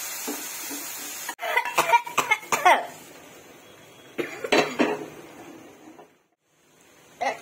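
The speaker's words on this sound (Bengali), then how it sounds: "কাশতে কাশতে জীবন শেষ" A person coughs while cooking 2x spicy Korean ramen with its sauce frying: close, harsh bursts of coughing in two clusters, a short pause, then one more burst at the end.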